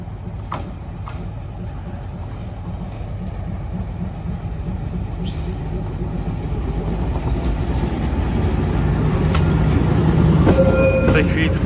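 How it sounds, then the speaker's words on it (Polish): A train set rolls along the tracks at a rail yard while locomotives are being switched, a loud steady rumble with faint rhythmic clatter that builds gradually, with a few sharp metallic clicks and no voices. "Skład już jedzie podstawić się na przewóz wąski."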